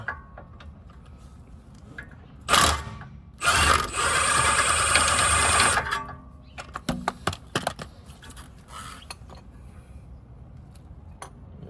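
A nut backed off a 2014 Nissan Altima 2.5S control arm with a ratchet or impact tool: a short burst, then a longer loud whirring run, followed by scattered clicks and ratchet ticks.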